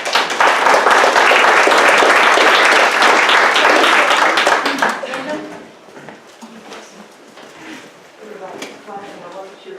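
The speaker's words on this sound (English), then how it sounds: "Everybody's clapping" Loud, dense applause from a public meeting audience fills the first half, then thins out as a single person starts talking over scattered remaining claps.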